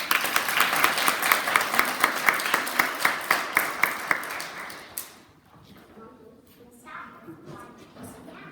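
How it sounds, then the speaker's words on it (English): A school assembly crowd celebrating young grade pupils claps in a steady rhythmic beat for about five seconds, loud and close, before it fades and a voice begins speaking over the quieter room. "Let's give them a big clap."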